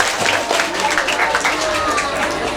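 Hands clapping at a Sundanese elementary school farewell and grade-promotion event, a crowd's scattered applause rising and holding steady for a couple of seconds, with voices chattering underneath.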